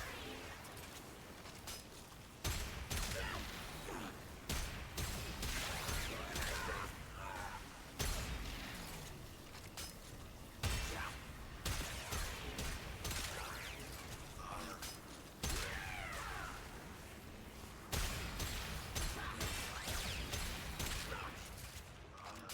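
Guns firing in the video game Warframe, with repeated bursts of sharp shots and whooshing weapon effects arriving in clusters separated by brief pauses, loud and close.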